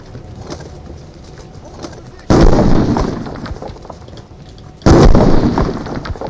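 Grenade explosions in the game Army Troop, two loud heavy bursts a couple of seconds apart, each with a booming rumbling decay, over quieter background game sounds.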